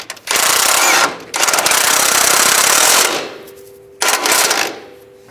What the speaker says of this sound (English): Now we can tighten the lower bolt.